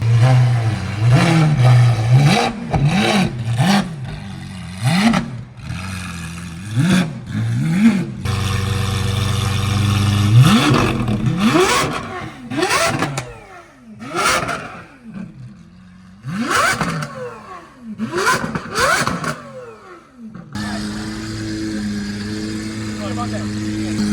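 A Liberty Walk Lamborghini Aventador engine revving repeatedly, rising and falling in sharp bursts with a steady idle between, close and loud, with people talking over it.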